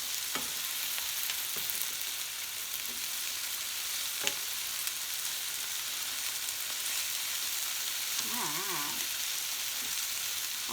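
Zucchini and squash fry in a pan with a steady, quiet sizzle, and a few spoon scrapes and taps come through as the pieces are stirred.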